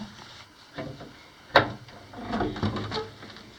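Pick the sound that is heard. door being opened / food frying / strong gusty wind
door being opened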